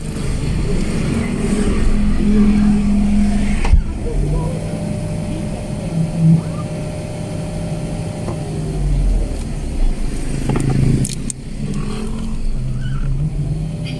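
A 2009 Mitsubishi Strada pickup with low power and a check-engine fault revs loudly and close by, a heavy sustained drone with shifting pitch and brief surges.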